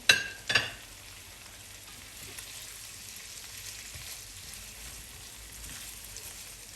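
Green peas and red and green peppers stir-frying for fried rice, opening with two sharp metallic clinks of a utensil on the pan, then a soft steady sizzle with faint scraping.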